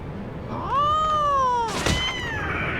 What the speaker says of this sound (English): Cat is pissed off.